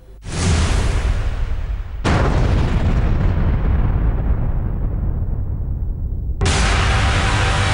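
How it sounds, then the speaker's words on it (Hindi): Massive blasts from a GBU-43 MOAB, the largest non-nuclear bomb, dropped on a militant hideout: three loud, sustained booming explosions, each a broad roaring burst that decays slowly, the last starting near the end. "अमेरिका ने जिस मोब यानी GBU-43 को आतंकियों के ठिकाने पर छोड़ा, उसे दुनिया का सबसे बड़ा नॉन न्यूक्लियर बम कहा जा रहा है"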